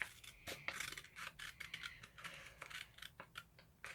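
Scissors snipping through paper while cutting out a Pikachu craft, a quick series of close, crisp snips and rustling cuts with no talking.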